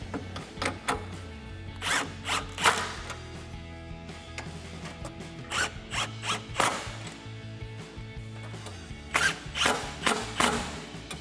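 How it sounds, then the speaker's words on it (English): A ratchet with a 13mm socket tightens nuts on a car's cold air intake, giving repeated quick clicking bursts close up, separated by short pauses and faint handling noises. "now we can switch to our 13mm socket to tighten down our nuts"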